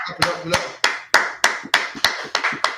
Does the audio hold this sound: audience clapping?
yes